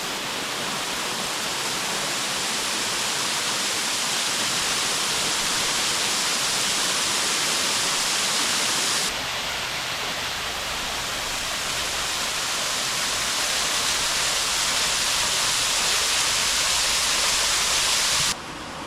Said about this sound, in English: This is the creek that feeds